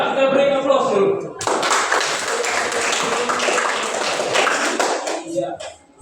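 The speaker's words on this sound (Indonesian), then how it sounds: "Kita beri aplaus dulu" Applause breaks out from an audience at a school event, a dense burst of clapping that starts abruptly and holds steady for several seconds before fading, following a brief voice.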